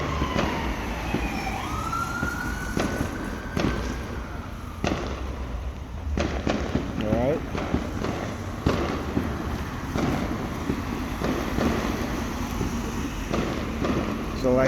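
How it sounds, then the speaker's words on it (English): Fireworks go off at night, a series of sharp cracks and pops at irregular intervals, with a whistling rocket and a distant siren wailing faintly in the background. "A lot of the fireworks and all this stuff"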